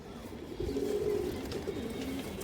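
Pigeons of an old-line khaki breed cooing at close range, a low steady murmur that swells and softens in soft rolling phrases, carrying on without pause and with no voices.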